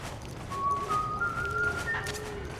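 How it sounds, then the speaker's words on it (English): A thin, rising whistle drifts in about halfway through, steady and clear over a low rumbling background of ambience in the video game Metal Gear Solid 4. "Do you hear whistling?"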